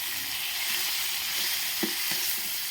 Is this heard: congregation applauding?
no